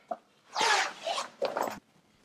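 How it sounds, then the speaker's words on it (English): YKK zippers open on a cloth briefcase protector in two close, raspy pulls, the first longer and the second shorter, after a small click at the start. No one speaks over them. "Quick little zippers, some YKKs."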